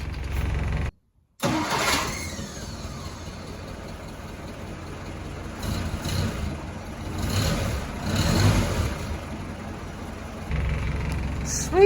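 A 1965 Jeep CJ5 engine cranks on a newly replaced starter while in neutral, a loud, close, churning drone that runs steadily and swells in waves, following a brief silent gap near the start.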